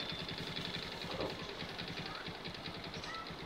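A 2010 Honda XRM motorcycle engine idles steadily close by, a continuous mid-pitched rumble with a fast, even pulse and no talking over it.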